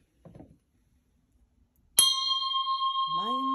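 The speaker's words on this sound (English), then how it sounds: "I send my heart along with the sound of the bell." A meditation bell is struck once after a few soft sounds, ringing out loud and close with a long sustained metallic tone, followed by a soft voice underneath the fading ring.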